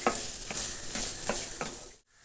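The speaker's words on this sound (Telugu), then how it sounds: "ఒక హాఫ్ కప్పు స్ప్రింగ్ ఆనియన్స్ వేస్తున్నాను. ఇవి కూడా కొంతసేపు ఫ్రై చేసుకోవాలి." Half a cup of spring onions frying in a pan, with a soft sizzle and a rhythmic series of about five spatula stirs and scrapes. The sound stops abruptly just before the end.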